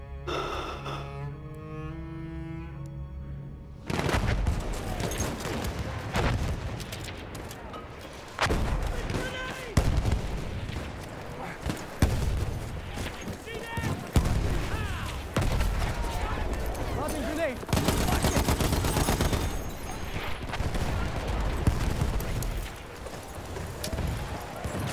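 Heavy video game gunfire aimed at the player, with rapid, loud overlapping shots and booming blasts coming in bursts for most of the stretch after a brief musical opening.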